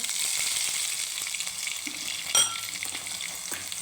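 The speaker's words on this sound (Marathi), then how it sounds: "तेल तापलं आहे आता जिरे टाकून घेणार आहे लसूण वाटून घेतलेला ते टाकणार आहे" Cumin seeds and crushed garlic sizzle in hot oil with mustard seeds, a close, dense, continuous frying hiss with a brief louder crackle partway through.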